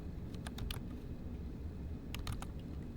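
Computer keyboard typing in two short bursts of quick, light key clicks, close and quiet over a low steady room hum.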